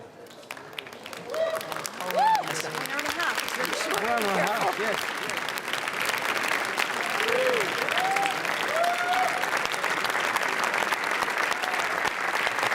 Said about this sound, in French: Je crois que c'est Julia Roberts qui se fait applaudir ainsi.